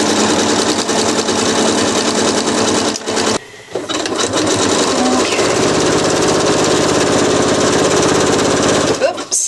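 Sewing machine stitching drawstring bag fabric, a loud, fast, continuous mechanical whir close by that stops briefly, then resumes and runs on steadily.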